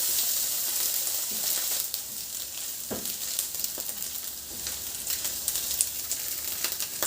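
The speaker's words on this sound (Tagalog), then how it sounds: "Igisa ko na rin yung sibuyas. At ihalo ko na rin yung hotdog at ham sa paggisa." Onion, then hotdog and ham, sautéing in a pan: a continuous close hiss of frying with occasional stirring scrapes and clicks, steady throughout.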